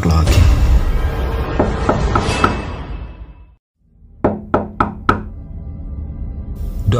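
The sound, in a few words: knocking on a door, horror story sound effect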